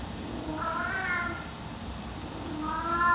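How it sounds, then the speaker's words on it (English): A house cat meows twice, two drawn-out wavering cries a couple of seconds apart, moderately near, over a steady low room hum. "Why is my cat just making all this noise?"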